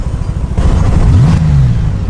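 A Honda Goldwing motorcycle engine revs hard and close, a loud rising roar that swells and drops back over about two seconds, with no voices over it.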